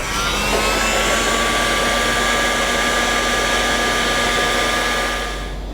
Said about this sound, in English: now I'm just going to hit that with the heat gun and let that heat shrink go around the cables.